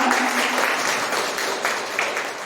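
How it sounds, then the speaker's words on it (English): A burst of clapping from a group at a teacher training session, steady and fairly loud throughout, with no voices on top. "A good clap for her."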